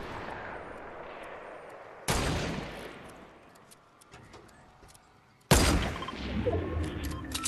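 Two sharp, loud gunshots in a Fortnite match, each a broadband crack with a decaying tail, a few seconds apart over a busy background of game ambience and smaller pops.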